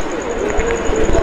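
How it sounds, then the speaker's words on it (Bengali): Pigeons coo softly at a pigeon farm in a short low burble, close by, with a voice briefly talking over it. "এই যে দেখেন একটা মুখী কবুতর আছে এখানে"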